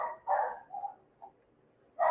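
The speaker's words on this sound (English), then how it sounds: "Sorry the dogs are barking again" Dogs indoors bark in a broken series of several yaps at uneven intervals, moderately loud with quiet gaps between, and no talk heard during the barking.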